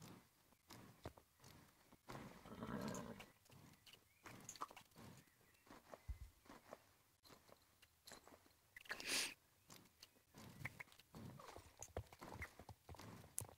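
Horse hooves clip-clop steadily in the Star Stable Online video game, a brisk walking rhythm of close, crisp hoof strikes with a few louder clusters, no talking over it.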